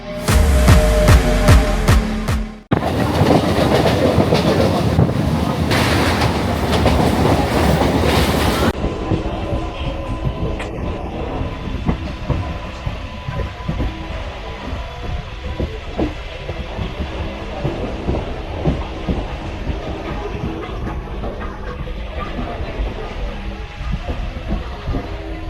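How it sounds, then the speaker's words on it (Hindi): A Panskura local train running from Howrah to Bagnan, heard from inside as a loud steady rumble with rhythmic clickety-clack of wheels on rails after a brief harsh burst at the start. "मैं इस समय हावड़ा से बागनान जाने के लिए पांचकुड़ा लोकल में बैठा हुआ हूँ"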